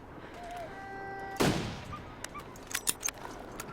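One sharp, loud rifle-like gunshot in The Long Dark survival game cracks out after quiet wind and faint tones, followed by a scatter of small clicks and thuds as the echo fades.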